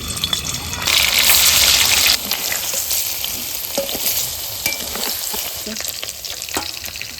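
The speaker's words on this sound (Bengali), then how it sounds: "কড়াইটা গরম হয়ে গেছে, এখন এর ভেতর তেল দিয়ে দিচ্ছি। এখন এই পনিরগুলো দিয়ে দিচ্ছি।" Paneer pieces hit hot oil in a heated wok and burst into a loud, dense sizzle. The frying then settles into a steady crackle with small pops, and no one speaks.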